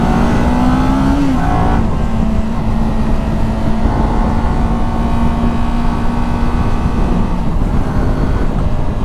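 A Kawasaki Ninja 400 motorcycle cruises at steady speed, its engine droning loud and close with a slight rise in pitch early on, mixed with constant wind rush.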